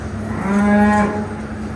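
A dairy cow in a tie-stall barn in Denmark gives one loud, drawn-out moo rising and fading over about a second, close by, with steady barn background noise.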